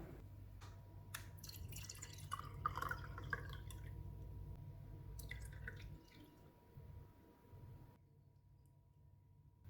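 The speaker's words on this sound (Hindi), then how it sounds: "शरबत तैयार हो गया, इसको गिलासों में डाल लेते हैं।" Tukh malanga sharbat is poured into glasses, producing quiet liquid splashes and drips, with faint trickling and small clinks fading out toward the end.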